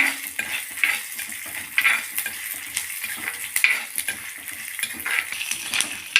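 Garlic is dry-roasted in a pan with peanuts and urad dal, a close, rhythmic run of spatula scrapes and metallic clinks over a steady crackling sizzle, with no voices.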